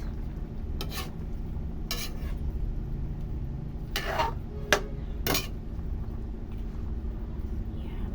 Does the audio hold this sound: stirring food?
yes